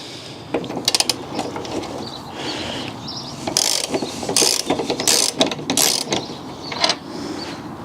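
A ratchet wrench working a thin 24mm nut off the boot lid microswitch of a BMW, close-up repeated clicking pawl strokes in uneven bursts with metallic handling clatter between them.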